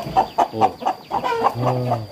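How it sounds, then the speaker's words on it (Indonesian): Chickens at a poultry farm cluck repeatedly and close by, a run of short rhythmic clucks followed by a longer drawn-out squawking call. "luar biasa ya pada peternakan ayam"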